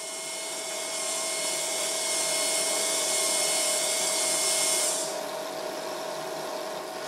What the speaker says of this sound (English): It looks like those first sparks took out a chunk of the electrode, and that was only while running in low power